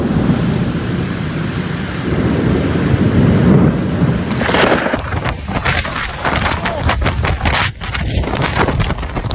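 Heavy thunderstorm in Saudi Arabia, a loud steady roar of rain and wind, then sharp thunder cracks and rumbles breaking in over the downpour.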